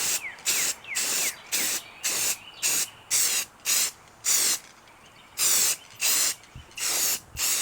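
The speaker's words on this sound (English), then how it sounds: "We're going to be trying something new, and that is this gold spray paint." Can of metallic gold spray paint coating door hinges in short, close hissing bursts, roughly a dozen rhythmic sprays with brief pauses and rattles between them.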